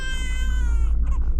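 A cat lets out a single drawn-out yowl, loud and close, wavering and rising before breaking off over a low rumbling background.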